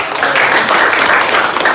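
Classroom applause during a high school mathematics lesson, a dense, steady patter of many hands clapping together, sustained and fairly loud for a short burst.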